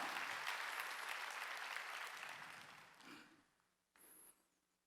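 Clapping from a congregation at a Wednesday church service, dense and loud at first, then thinning and fading out, with a short burst near the end.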